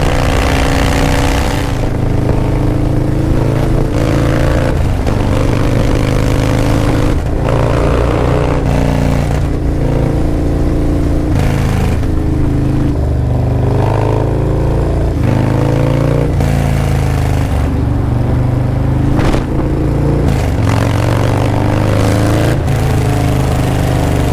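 A Harley-Davidson Low Rider ST thunders along a highway out of New York, a loud, continuous low engine rumble with wind roar, the pitch rising and falling through gear changes and throttle swells.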